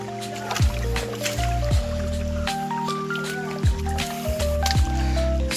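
Footsteps wade through water along a forest trail, each step a wet squelch and slosh, close and fairly loud in an uneven walking rhythm, with steady watery splashing between steps and no talking.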